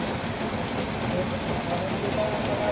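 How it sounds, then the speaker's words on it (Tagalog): Heavy rain pours steadily as a dense, continuous hiss and patter, with faint voices underneath. "ang lakas ng ulan"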